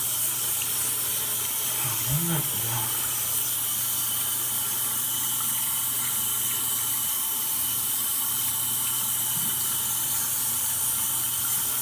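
Water runs steadily from a tap while a dirty kitten is bathed, a constant close hiss and splash throughout with a brief low squeal early on.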